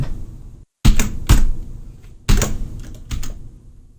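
Someone types on a computer keyboard while editing Ruby on Rails code, with loud, close clacks in short bursts, several heavier key strikes, and a brief silent gap between them.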